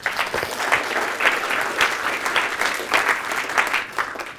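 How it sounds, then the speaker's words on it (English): An audience at a seminar claps in a full, steady round of applause that holds at an even level throughout, with no voices over it. "Ladies and gentlemen, give David a round of applause"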